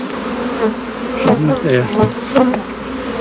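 Honey bees buzzing in an opened, strong beehive box full of brood, a close, continuous droning hum with a few wingbeats flaring louder, while a person speaks briefly nearby.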